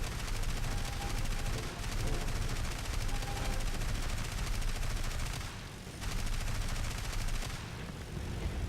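A Ju 87 aircraft in a video game strafes with its machine gun, firing rapid continuous bursts with short pauses between them, loud over the drone of the airplane.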